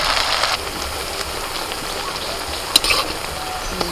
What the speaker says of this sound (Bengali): এবার এগুলোকে শুধু তেলের মধ্যে একটু ফ্রাই করে নিতে হবে